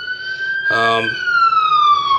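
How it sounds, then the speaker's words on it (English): A city emergency siren wails steadily in the background, its tone rising and falling. Close voices talk over it throughout. "Excuse the background, little siren going on."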